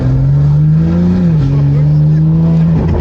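A BMW G82 M4 with an S58 engine and catless downpipes revs loudly up close, a deep steady roar that dips briefly in pitch midway before holding again.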